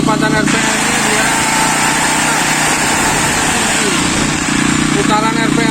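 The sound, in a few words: Krisbow Silent 2000 W generator running at highest RPM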